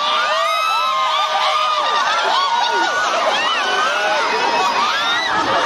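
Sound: rally crowd with young women screaming

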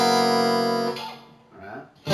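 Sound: guitar playing a chord

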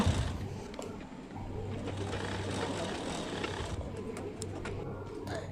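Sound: sewing machine stitching folded cloth strip

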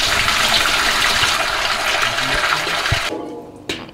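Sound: water pouring into a pot of bones

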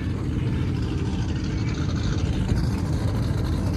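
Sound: race cars lined up on grid

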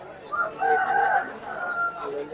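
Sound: rooster crowing at market

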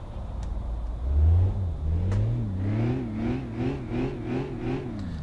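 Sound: Volkswagen Golf R32 engine starting and revving, from video game City Car Driving

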